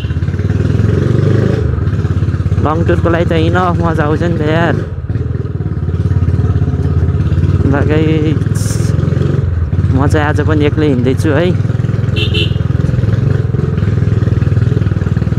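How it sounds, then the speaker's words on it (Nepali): A Royal Enfield Bullet 350 motorcycle engine rumbles steadily and loudly throughout a ride, with someone talking over it for most of the stretch. "आज हेरौँ न बुलेट बाइकको कतिको पावर रहेछ"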